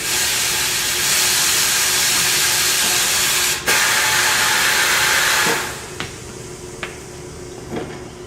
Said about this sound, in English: Break half of it loose, do the other half, line it up against the edge of the rim, step on the pedal.